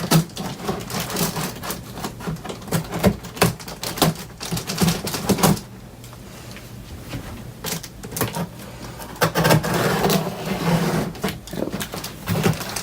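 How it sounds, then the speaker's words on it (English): A cardboard box holding a Power Macintosh G4 is cut open, with close, irregular scraping, tearing and clattering bursts of blade on cardboard, a short quieter pause, then more cutting and rustling. "Just cut open the box."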